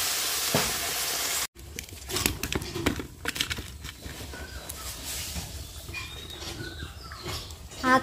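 Mixed vegetables frying in a pan, alongside fried soybean chunks, give a steady close sizzle with crackling pops and stirring scrapes, broken by a brief dropout early on.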